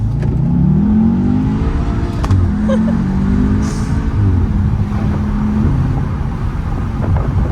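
A 2016-era Audi TTS MK3 pulling away, its engine a loud, close, steady drone that rises in pitch as it accelerates, with a voice talking briefly over it.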